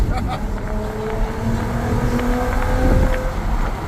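A Volkswagen GTI drives fast, its engine droning in a steady, moderately loud rush with rising and falling pitch under wind noise, heard from inside or close by.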